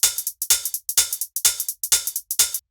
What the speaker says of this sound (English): And then the last layer that we have here are the hi-hats